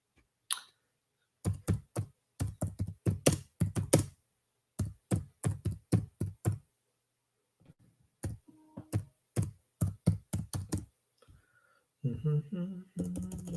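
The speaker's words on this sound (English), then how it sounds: "I'm not the fastest typer in the world." Bursts of tapping on a computer keyboard come in irregular clusters of quick, close keystrokes separated by pauses, with faint background sounds toward the end.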